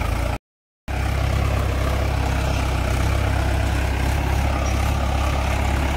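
A small tractor engine pulls a reversible plough through a sugarcane field, running as a steady, loud, low diesel drone that cuts out briefly near the start and then continues without a break.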